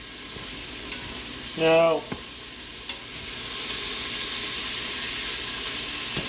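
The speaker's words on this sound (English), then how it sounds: "I want to saute this for about 8 minutes" Spaghetti carbonara ingredients sauté in a pan with a steady, close sizzle and hiss throughout. A voice speaks briefly near the start.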